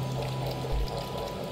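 A sink tap runs in the video game Overclocked, a steady rushing pour of water, close and even for a moment with no talk.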